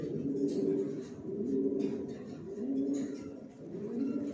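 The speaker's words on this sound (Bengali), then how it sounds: "সব বিগ সাইজের কবুতর পালি আমি" Big-size pigeons in a loft, cooing in repeated low rolling phrases at a steady rhythm, fairly close and alone.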